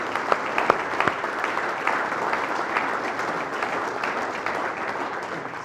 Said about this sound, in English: please give a round of applause for these guys